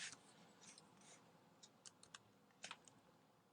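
Quiet typing on a computer keyboard while coding: scattered light key clicks in short irregular bursts, faint and close.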